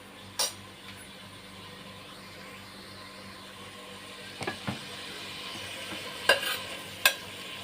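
Onions, green chilies and tomatoes frying in hot oil make a soft, low sizzle with a few brief stirring scrapes and light metallic clinks from a spoon against the pan.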